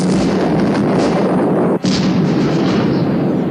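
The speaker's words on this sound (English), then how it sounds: "God, they were really big explosions." Big explosions at a dock fire in the TUGS model-boat TV series, a continuous loud roaring blast with heavy rumble that briefly cuts out near the middle and then resumes, with no talking.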